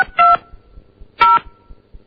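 A telephone keypad sounds two loud dual-tone dialing beeps, about a second apart, while calling a fax phone, with faint regular ticking between the tones.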